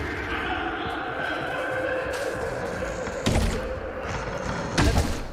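Hard-mode combat in Hogwarts Legacy: a steady game soundscape carries two sharp blasts from the Confringo fire spell, the first near 3.3 seconds and a louder second near 4.8 seconds, each a short booming impact.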